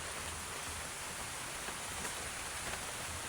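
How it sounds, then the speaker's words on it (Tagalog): Rain starts falling again outdoors in a muddy spot, a steady even soft hiss with no distinct drops and no voices. "Kumapatak na naman po ang ulan guys."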